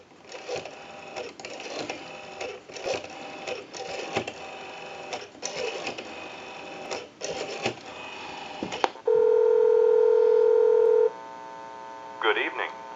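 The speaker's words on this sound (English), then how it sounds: "We'll go ahead and give you some dial tone," Steady, loud telephone dial tone from a repaired ITT 554 rotary wall telephone, holding for about two seconds right after a stretch of clicking, handling noise and brief talk, then followed by a short burst of sound.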